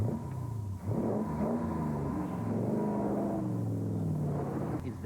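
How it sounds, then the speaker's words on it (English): A Daimler Dart SP250 sports car engine revs and drones in a steady mid-range growl, rising and falling in pitch with a brief dip early on, fairly close and alone. "the main reason for buying a Daimler Dart sounds like this"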